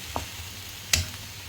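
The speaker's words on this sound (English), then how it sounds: "So we're just going to fry this off so that the peppers soften and the onions" Chopped onion and red bell pepper frying in a pan, a faint steady sizzle with a couple of short clinks of a utensil against the pan.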